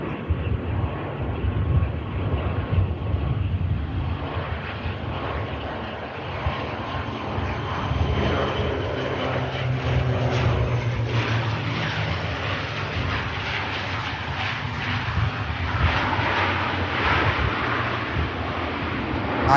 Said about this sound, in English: Nicely done from the prop aircraft.